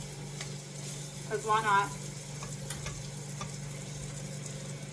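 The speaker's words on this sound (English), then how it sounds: "Alright, we're going to flip our patty." A veggie patty gets flipped in a frying pan and keeps sizzling, a steady hiss with a brief clatter from the turn; a person talks briefly over it.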